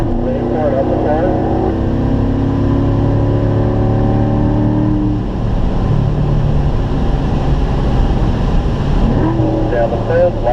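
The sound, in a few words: Corvette engine at full throttle on a race track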